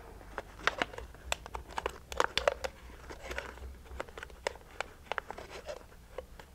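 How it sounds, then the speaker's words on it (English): Red plastic Solo cup being cut through at the bottom, giving a run of sharp crinkling, crackling snips and scrapes in irregular bursts, close and fairly quiet, with no talking. "I'm gonna cut the bottom off this red Solo cup"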